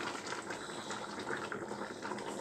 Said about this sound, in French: je laisse mijoter un peu